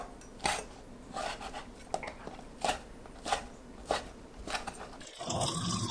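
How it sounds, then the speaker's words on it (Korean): A knife cuts fish cake into bite-size pieces on a board in a series of about eight crisp, evenly spaced chops, close up. "어묵을 한입 크기로 썰어주세요."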